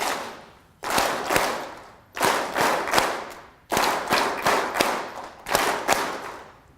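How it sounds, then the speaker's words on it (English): An audience claps together in a rhythmic happy-clap pattern: four bursts of sharp, loud, close group claps in short counted groups, separated by brief pauses. "So very simple. So happy clap."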